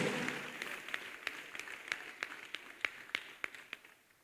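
A church congregation claps for Jesus in a short burst, distinct hand claps at an uneven, loose rhythm that fade somewhat toward the end, heard from a moderate distance without talking.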